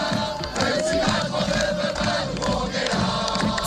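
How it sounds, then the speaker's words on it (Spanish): Street protest crowd in France chanting and shouting, a dense continuous roar of many voices with steady rhythmic surges, heard at a distance. "Este es el sonido de las protestas de este fin de semana en Francia."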